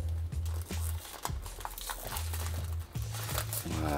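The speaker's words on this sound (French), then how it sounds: "j'avais déjà commencé à découper le papier." Packaging paper being cut and crinkled while unboxing a small box holding a budget TECKEPIC QS01 tracker watch, with close, repeated rustling and crunching bursts and short pauses between them.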